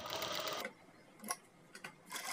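A sewing machine stitches fabric pleats in a quick rattling burst, then stops, leaving a few faint clicks and a brief restart near the end.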